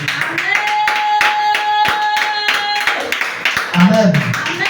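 Church congregation clapping in praise during a French-language service, a steady rhythmic beat of many hands with a voice speaking over it.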